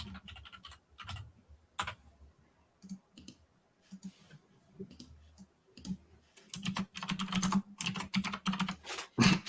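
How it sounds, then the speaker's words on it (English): Clacky typing on a computer keyboard, bursts of quick keystrokes separated by pauses, then a denser, louder run of rapid key presses toward the end, close and without talk. "I can tell you typing."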